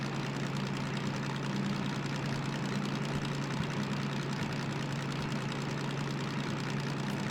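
A hazmat truck's engine runs at a steady low drone with a constant hum while the driver upshifts, the sound heard from inside the cab and continuous with no talking.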